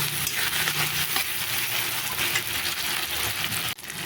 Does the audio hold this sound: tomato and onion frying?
yes